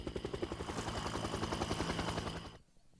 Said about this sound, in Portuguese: O helicóptero é um Huey, como os que foram usados no Vietnã, e agora pousa no ângulo correto.